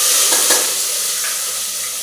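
Onions, green chillies and curry leaves hit hot oil after mustard seeds, giving a loud, close, continuous sizzle and crackle with a brief burst near the start.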